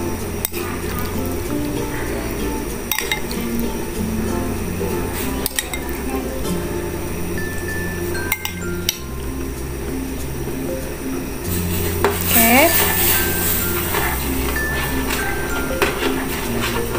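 A utensil scrapes and knocks against a metal pot in repeated stirring strokes while mixing rice porridge with chicken, with occasional clinks, close by and fairly loud.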